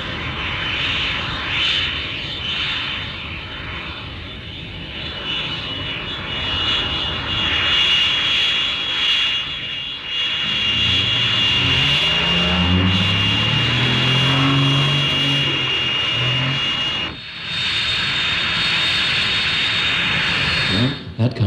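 A North American F-86D Sabre jet taxis with a loud, steady turbine whine and roar. The engine note sweeps and rises partway through, and radio-style voice chatter comes in over it at times.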